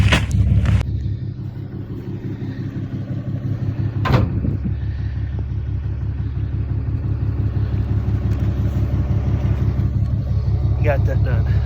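A pickup truck drives out to feed heifers in freezing weather, its engine a loud, close, steady rumble with a regular rhythmic throb, broken by a couple of sharp knocks and rattles.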